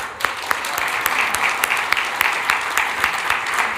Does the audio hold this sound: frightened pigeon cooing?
no